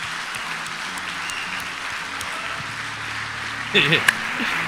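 An audience gives a big round of applause welcoming speaker Pablo Marçal, a steady diffuse patter of clapping, with a voice cutting in briefly near the end.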